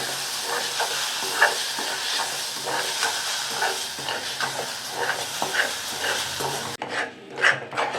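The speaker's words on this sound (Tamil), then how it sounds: "சிம்மில் வச்சுட்டு நல்லா வதக்கிடலாம்" Amla (gooseberry) chutney sautés in a pan on low heat, with a steady hiss and sizzle under rhythmic spatula scraping, the strokes growing more distinct toward the end.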